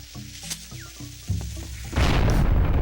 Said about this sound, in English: I gotta look back at that explosion.